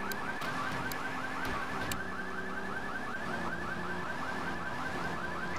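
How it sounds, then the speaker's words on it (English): A car alarm in the video game Grand Theft Auto III wails continuously, a repeating rising whoop that cycles steadily, heard at moderate distance over low background engine rumble. "Listen to the lovely car alarm."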